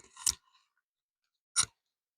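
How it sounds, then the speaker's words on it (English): Two crisp, separate snips of scissors cutting a plant cutting from its mother plant indoors, close and clear with silence between them. "So maybe I will just cut her right here."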